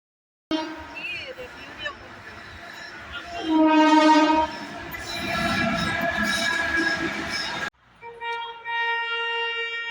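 A train rumbles past with clattering wheels and a long horn blast, followed by a sustained horn or whistle tone; some voices are mixed in.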